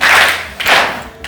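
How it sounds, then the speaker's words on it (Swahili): Two sharp claps from a classroom of pupils at a Tanzanian school, each a short bright burst spaced about half a second apart, close and loud with no talking. "Mpigie makofi mawili."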